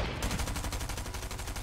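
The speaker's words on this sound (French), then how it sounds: "Oh, la cadence de la PM." An SMG fires a rapid, steady burst in Fortnite, its close, loud shots repeating at a fast, even cadence for under two seconds with no break.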